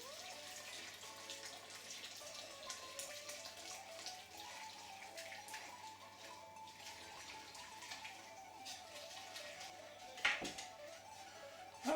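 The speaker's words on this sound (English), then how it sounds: "I'm going to pour my sauce into the broth, whisking while I do it" Egg-lemon sauce is poured into hot broth for Greek avgolemono soup while being whisked, a faint, steady liquid trickle and stir with light splashing, quiet and alone, ending in a short clink.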